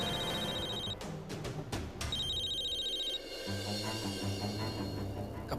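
A phone rings with a repeated electronic tone in two bursts, sounding over a busy background of music and noise, with no speech.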